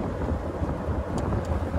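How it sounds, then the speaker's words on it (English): Steady, heavy wind buffets the microphone with a low rumbling roar throughout. "I'm sorry if it's windy,"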